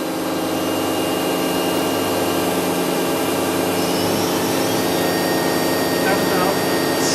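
Spindle of a Toshiba MPF-2114C three-axis bridge-type vertical die and mold machining center running at 6,000 RPM, a loud continuous broadband whine and rumble with steady tones, unbroken throughout.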